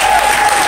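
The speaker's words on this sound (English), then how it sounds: "So let's give them a round of applause." An awards-ceremony audience breaks into a brief, dense burst of applause, loud and close, the clapping filling the whole short moment without any talk over it.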